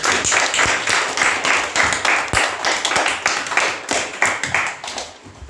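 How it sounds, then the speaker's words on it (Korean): Students clap at a middle school program-completion ceremony following a student's speech, a dense, close round of hand claps with uneven individual strikes that continues steadily for several seconds, loud and alone without talk. "큰 박수 부탁드립니다"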